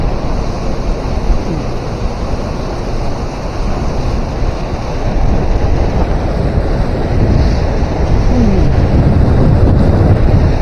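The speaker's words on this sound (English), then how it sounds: "man, that wind." Strong wind gusting over the Fox River below the South Elgin dam while fishing, a steady loud roar of rushing air and microphone buffeting that swells slightly toward the end, with no speech.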